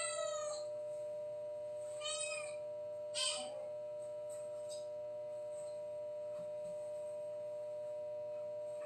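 A cat meows insistently, with a few distinct meows spaced through the first few seconds over a steady electronic tone, then fainter calls follow.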